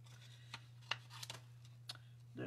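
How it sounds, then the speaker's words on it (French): Paper being cut with scissors while making a Starburst card, heard as a few quiet, brief snips scattered over a steady low electrical hum. "On découpe notre petit papier."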